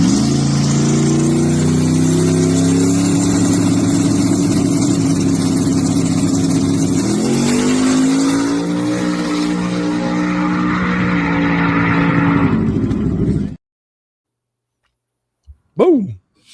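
A drag race car makes a full pass: a loud engine roars at high revs, with pitch climbing through gear changes for about thirteen seconds. It then cuts off abruptly into silence, followed by a couple of brief sharp sounds.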